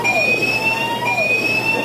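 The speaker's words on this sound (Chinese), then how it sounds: "警报声响起" An electronic alarm sounds in a Taiwan high-speed rail emergency response center during earthquake response, a loud repeating tone that sweeps and pulses steadily through the short moment.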